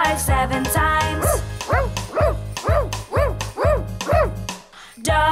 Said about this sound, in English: Dog barks 7 times.